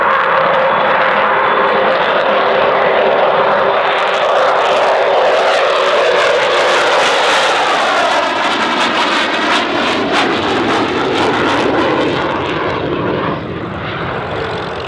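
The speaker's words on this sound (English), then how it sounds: "Here she is then, in her last ever flying display season." A loud Avro Vulcan jet bomber roars continuously overhead during an airshow flying display, its engine noise swelling and shifting in pitch as it passes close by, with no voices.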